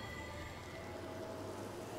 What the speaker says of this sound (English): Let us have some rain.